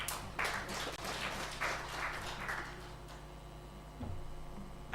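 An audience applauds for the Red Cross at a disaster management report launch, a dense patter of clapping that is steady at first, then thins and fades toward the end.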